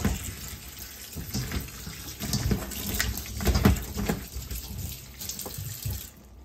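Pickling cucumbers being rinsed under a running kitchen tap, a steady splashing water stream with small surges as the vegetables are turned, close and fairly loud, with no talking.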